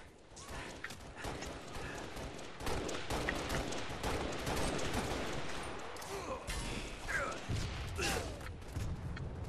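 Gunfire rattles through a Halo MCC multiplayer match in a dense run of shots and mechanical clatter, fairly quiet overall, with a player's voice talking over it.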